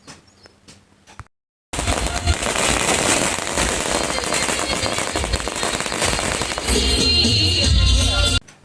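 A long string of firecrackers goes off at a village wedding in Dhoraji, a dense, loud, continuous crackle of rapid pops lasting several seconds after a brief quiet moment.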